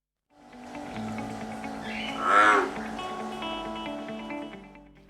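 A deep, resonant bullfrog croak swells in the middle over a steady droning chorus of bullfrog calls, with no voices.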